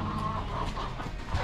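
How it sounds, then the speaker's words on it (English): Fighting roosters cluck in short, low bursts at a middling distance, with steady background noise and no talking. "Vamos a ver los gallos de pelea."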